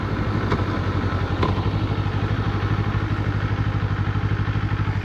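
A 2024 Kawasaki Eliminator motorcycle engine thrums steadily and loud while riding, a rapid, even pulsing beat with slight mechanical clatter and no talk.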